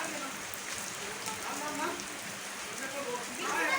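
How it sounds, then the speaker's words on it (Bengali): Heavy rain pours down steadily, a dense continuous hiss of drops striking surfaces, even and unbroken throughout with slight swells in intensity. "না বৃষ্টি তো এই জুড়ে আসতেছে।"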